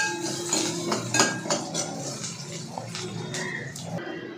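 A spoon mixes a single onion with oil in a pan while cooking Marathi-style dry prawns, making a series of close metallic clinks and scrapes against the pan over a light background hiss.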